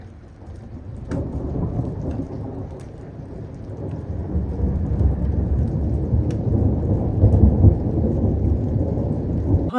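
A thunderstorm with steady, heavy rain and low, rolling thunder that builds gradually to a dense, continuous roar, with no voices.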